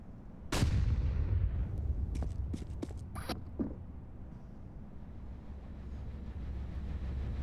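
A sharp, loud P250 pistol shot in a Counter-Strike pistol round on Vertigo, followed by several quick clicks and smaller impact cracks, then a steady low background rumble without talking.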